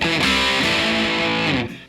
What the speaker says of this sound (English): to nice distortion